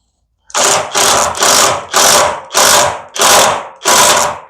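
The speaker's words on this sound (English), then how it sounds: "Throw this whole ratchet on it." Ratchet tightening a bolt on a Badlands Apex 5500 winch mounted on a Can-Am Defender, six loud close rasping bursts in a steady rhythm with no talking.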